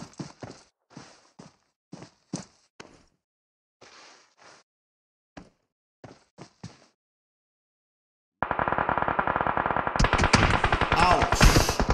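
Gunfire in the Clash of Clans competitive match: sharp, loud bursts of rapid shots in an irregular rhythm with short gaps, followed by a dense, continuous roar of battle noise.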